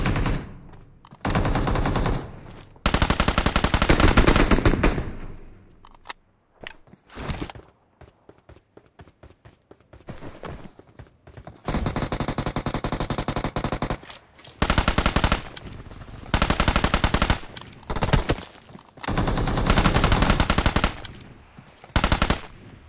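Bursts of machine gun fire in the PUBG Mobile video game, several long sustained volleys and short rapid strings separated by quieter gaps with footsteps, loud and close.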